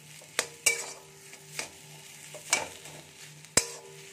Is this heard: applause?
no